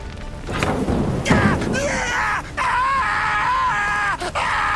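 A character in The Witcher 3: Hearts of Stone screams in anguish: strained, wavering cries held in long drawn-out bursts with brief breaks, set over a low rumbling game backdrop, with no spoken words.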